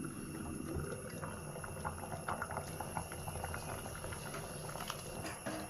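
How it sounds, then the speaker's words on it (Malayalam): Tamarind curry made with horse gram and colocasia stems bubbles steadily in a covered pot, a close, continuous soft boiling with small pops and no talking. "നല്ലതുപോലെ പുളി തിളക്കട്ടെ"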